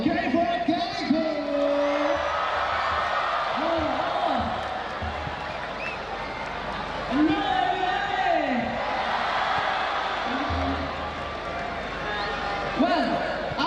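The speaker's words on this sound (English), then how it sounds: "please give us a big round of applause for Kickoff!" A crowd at a football league final cheers, whoops and bellows through a long stretch, with loud shouted voices carrying over the steady roar of the stands.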